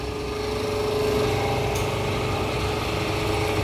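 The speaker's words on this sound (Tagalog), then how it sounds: "we are ready to press or to crimp" A hydraulic hose crimping machine presses a hose fitting, its motor and pump humming in a steady, close, moderately loud drone throughout with no talking.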